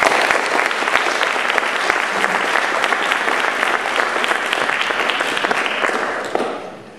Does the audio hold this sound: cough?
no